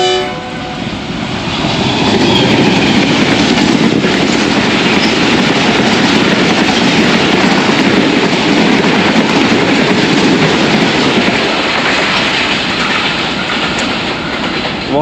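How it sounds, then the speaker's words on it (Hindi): Two passenger trains pass each other at Kharian Cantonment station: a loud, sustained roar of rolling wagons with clickety-clack over the rails, a horn blast near the start, staying close and heavy for the whole stretch. "दोनों सिस्टर ट्रेन्स का ज़बरदस्त क्रॉस होगा खारियाँ छावनी पर।"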